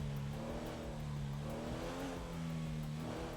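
A video game Elegy Retro Custom car engine drones steadily with a low, continuous hum that rises and falls slightly in pitch, sounding moderately distant and muffled throughout.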